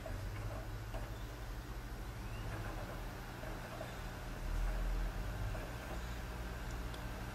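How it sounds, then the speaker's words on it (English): An Xbox 360 Slim console's cooling fan spins up as a faint, steady low hum with a soft mechanical whir, holding constant for several seconds with no talking. "you can hear the fan start to kick in a little bit"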